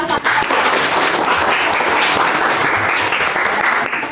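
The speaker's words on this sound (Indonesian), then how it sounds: "Sekarang ingin memberikan applause sekali lagi untuk semua kelompok 1." A school class applauding the presenting groups, a sustained burst of many hands clapping together, loud and close throughout before tapering slightly at the end, with no talking.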